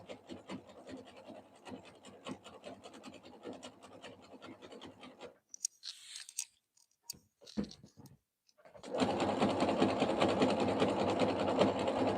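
A sewing machine stitches a jelly roll fabric rug in rapid, steady runs, pauses briefly amid a few scattered scrapes and handling noises, then resumes louder and denser, running continuously at close range with no talking.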